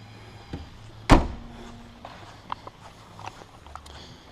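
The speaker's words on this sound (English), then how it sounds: "I'll open the door, take this thing outside and take it on a quick test drive" A single sharp metallic clunk of a 1992 Jeep Cherokee door being opened, near and loud, followed by faint scattered knocks and handling sounds.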